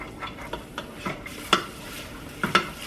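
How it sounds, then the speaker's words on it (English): Chopped onion sautéing in a pan while being stirred, with a soft constant sizzle broken by repeated scraping strokes and utensil clinks against the pan, close and clear. "I'm just going to stir these and cook these until they start, becoming nice and translucent in color"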